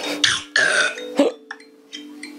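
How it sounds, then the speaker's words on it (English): A cartoon baby in a Sago Mini game gives a short gurgling burp, followed by brief playful chirps and sound effects over a faint steady tone. "Big burp."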